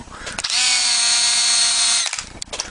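A power driver runs a 12 mm screw into plastic in one sustained, loud high-pitched whir of about a second and a half, with faint handling clicks before and after.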